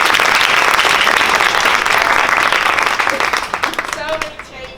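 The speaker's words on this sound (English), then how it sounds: "give them an extra clap on this" A school assembly audience claps loudly and steadily for Year 5 children stepping in, the dense applause fading toward the end as a voice begins to speak.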